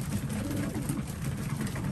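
Soft, low cooing from racing pigeons, a continuous murmuring burble that stays steady and close with no voices over it.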